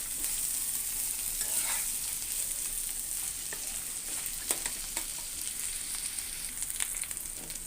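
Dried lotte fish shutki fries in a pan with a steady, bright sizzle throughout, punctuated by occasional scraping and clinking of stirring.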